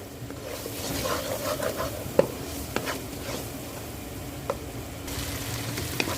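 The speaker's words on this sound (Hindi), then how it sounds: "और इसकी दोबारा से हम अच्छी तरह से भुनाई कर लेंगे स्पाइसेस के साथ" Masala with turmeric and coriander powder fries in a pot for Lahori chicken chickpea curry, a moderate steady sizzle with occasional sharp scrapes and clinks of a spoon against the metal.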